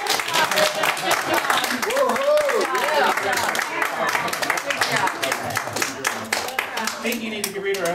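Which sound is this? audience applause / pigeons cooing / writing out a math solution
audience applause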